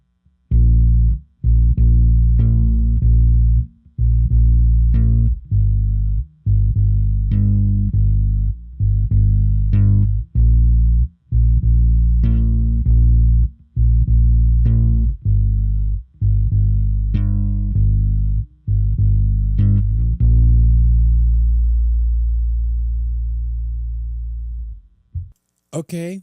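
A bass guitar played through a KAUSSA Cerberus bass amp plugin gives loud, deep, distorted notes in a rhythmic riff, each note plucked sharply and held, ending on a long sustained note that fades away.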